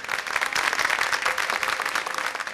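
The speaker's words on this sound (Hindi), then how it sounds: "अपने लिए तालियां बजा दें यहाँ पर" Audience applause at an evening mehfil music gathering, a dense steady patter of many hands clapping together, fairly loud and sustained without a break.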